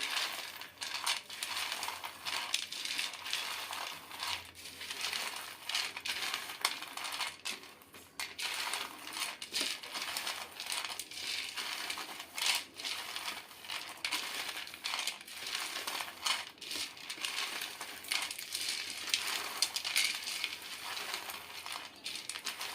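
Shelled peanuts being crushed by hand for peanut chikki give a steady run of faint, dry crackling and clicking, close up and quiet, with no talk.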